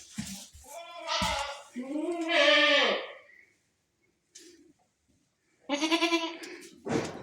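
Rhoda, a goat doe in the barn, bleats loudly and close in long wavering calls, with one call early, a longer one after it, a quiet gap, and then another bleat near the end.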